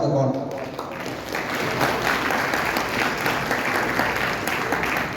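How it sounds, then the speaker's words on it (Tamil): Crowd applause at a Hindu temple Pongal festival in Wuppertal, Germany: dense, sustained clapping from a large audience that holds at an even level throughout. "நீங்கள் எல்லாம் பெருத்த கரகோஷம் கொடுக்கணும்"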